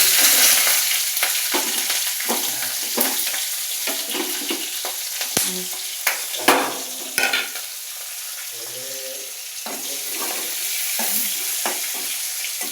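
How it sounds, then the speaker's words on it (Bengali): Radhuni seeds, garlic, dried red chillies and green chillies hit hot oil for tempering, a loud close sizzle that settles into a steady hiss with scattered stirring knocks. "এবার ওই তেলের মধ্যেই রাঁধুনি ফোড়ন, রসুন ফোড়ন, শুকনো লঙ্কা ফোড়ন আর কাঁচা লঙ্কা ফোড়নটা দিয়ে দেবো।"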